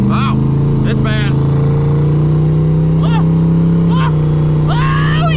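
A twin turbo Ford Mustang engine runs loud and close with a steady, droning tone and a slight shift in pitch partway through. Voices talk briefly over the engine.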